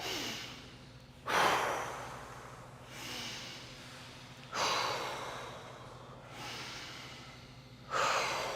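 Slow, deep yoga breaths, close and steady: long airy exhales and inhales in an even cycle, with a stronger breath about every three and a half seconds over a faint low hum.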